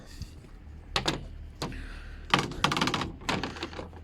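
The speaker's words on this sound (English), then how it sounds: "The Irwin clamps that I've just cut the top off and welded on." Modified Irwin clamps, their tops cut off and welded on, are handled in a workshop: a series of sharp metallic clunks and knocks, some in quick clusters, at close range with brief pauses between.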